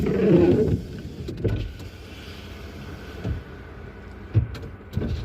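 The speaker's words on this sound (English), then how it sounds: "I got to turn the vehicle back on, put my windows down" Power windows on a car stopped by Maryland State Police roll down with a low, steady electric motor hum, close by, broken by a few soft thumps and no talking.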